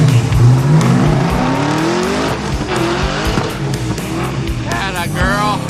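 Hot rod car driving hard on a track, engine revving loud and continuous with rising pitch sweeps as it accelerates, and a brief tire squeal near the end; voices talk faintly underneath.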